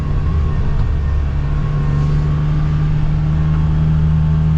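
2025 Polaris Ranger XD 1500 side-by-side driving, its engine droning loud and steady with a strong low hum and slight rise in revs, heard close from inside the cab.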